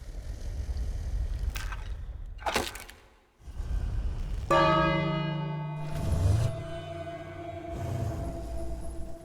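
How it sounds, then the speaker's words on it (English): A bell rings in the video game King's Quest, one loud strike that rings on with a long sustained tonal decay, after a few thumps and clunks from the game. "then I ring the bell"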